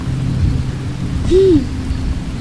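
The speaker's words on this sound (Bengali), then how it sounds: "বাইরে মুষলধারে বৃষ্টি হচ্ছে।" Heavy rain with thunder in a Bengali horror cartoon, a steady low wash of downpour with a rumbling swell midway, heard alone without voices.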